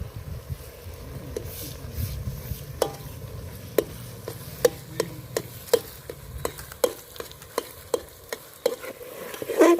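Crushed ginger and garlic fry in a pan for an eggplant dish, a soft sizzle under a run of sharp, evenly spaced clicks and taps of a spoon against the pan, close up.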